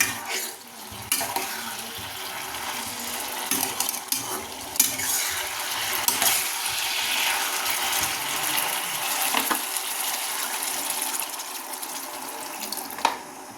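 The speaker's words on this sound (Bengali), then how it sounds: "দেখি, এবার আমি জল দিয়ে দেবো।" Water goes into a cooking pot of new potatoes on a gas stove, with splashing, stirring and a soft sizzle that come in uneven bursts, fairly quiet and close, with no voices.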